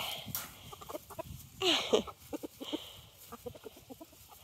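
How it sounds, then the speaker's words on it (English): Chickens cluck in short, scattered bursts close by, with one louder squawk in the middle, over a quiet outdoor background. "the chickens were fed and they're about to be watered"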